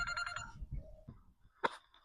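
A telephone rings in a short burst near the end, following a few quieter tonal sounds, with no voices over it.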